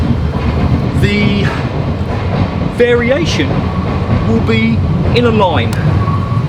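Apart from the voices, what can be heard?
passing train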